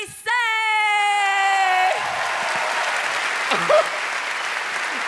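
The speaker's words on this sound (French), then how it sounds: "applaudissez!" An audience claps and cheers at a live comedy-style show after a performer demands it, preceded by a long drawn-out vocal shout; the crowd noise runs steady with a brief yelp near the end.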